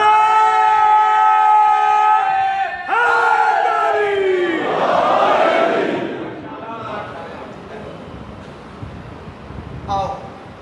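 Crowd at a Shia majlis mourning the martyrdom of Imam Ali answers a caller with a loud, drawn-out unison chant of religious slogans that swells and then breaks into scattered, fading voices.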